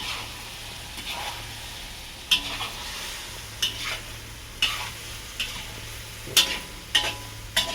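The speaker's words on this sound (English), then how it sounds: "finish because the wok is talking to me. I can hear the noise." Tau see bitter gourd stir-fried in a wok: a continuous close sizzle broken by regular scraping strokes of the spatula against the metal, roughly one every second, with no talking.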